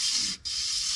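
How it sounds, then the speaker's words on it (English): Steady, bright scratchy rubbing of sandpaper on a Saturn engine's metal crankshaft journal, close and continuous, with a brief dip near the middle as the stroke changes. "Each time you do this, that sandpaper is going all the way around that journal."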